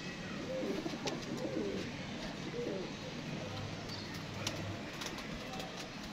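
Pigeons settling back down after a flight, giving soft low cooing calls over steady outdoor background noise, with faint voices present throughout.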